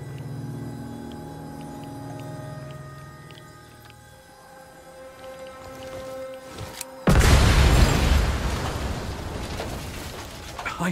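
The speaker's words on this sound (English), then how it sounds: "Blow it up before he gets any closer." In the game Chernobylite, an approaching stumble bomb blows up near a checkpoint: a sudden loud explosion bursts in after a quieter hum and lingers as a rumbling roar.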